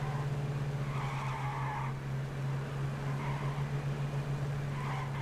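A car in the H1Z1 King of the Kill survival game drives round in circles, its engine droning steadily with a low hum while repeated tire skids and squeals rise and fade, no talking.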